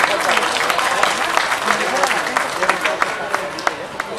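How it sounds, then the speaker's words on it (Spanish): Audience at a public round-table discussion applauds a doctor, a loud, dense burst of clapping from a close crowd, with individual claps still sharp toward the end. "Un aplauso para el doctor."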